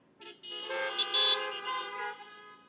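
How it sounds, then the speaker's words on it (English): A car horn blares in one sustained, honking blast lasting about two seconds, loud and tonal with rich harmonics, rising and then fading out. "If you believe that, give me a honk."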